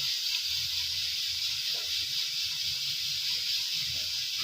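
Kofta meatballs slip into simmering curry gravy amid a constant broad hiss of bubbling, with soft low plops and thuds scattered through, steady and close; no talking.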